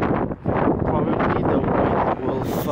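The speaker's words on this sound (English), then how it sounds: "it's windy, like a lot of wind" Strong wind buffets a phone microphone outdoors as a snowstorm moves in, a constant loud rumbling roar with gusty swells and brief lulls.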